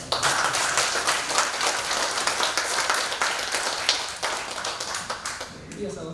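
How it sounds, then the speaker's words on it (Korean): An audience gives a lecturer a big round of applause at the close of a lecture event, dense clapping with distinct sharp claps standing out, fairly loud and gradually thinning toward the end. "강사께 다시 한번 큰 박수"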